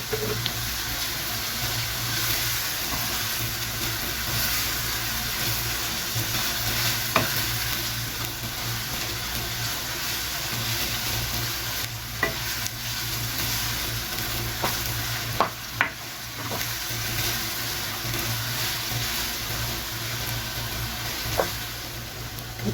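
Continuous frying sizzle of onions in a pan fills the whole stretch, a dense steady hiss with occasional small pops and crackles.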